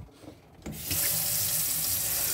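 Water rushes from a tap as the onboard system of a 2017 Sprite Freedom 6 caravan fills; after a quiet moment and a click, a loud, steady gushing hiss takes over and runs without break.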